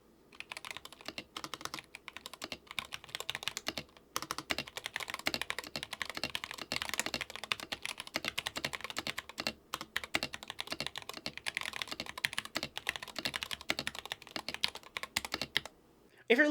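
Continuous fast typing on an NK65 mechanical keyboard, dense clacking keystrokes close up with a couple of brief pauses, no talking.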